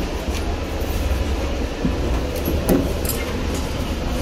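Steady rumble of a moving passenger train heard from inside the carriage, a continuous low roar with faint rattles and a brief clunk near the middle, no talk.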